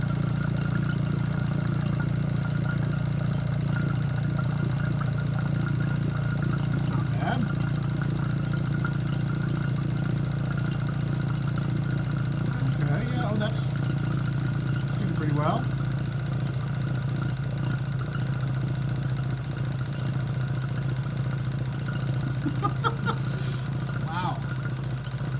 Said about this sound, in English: Removing the air from the chamber.